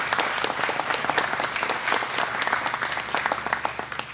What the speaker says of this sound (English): Give our farm industry a nice round of applause,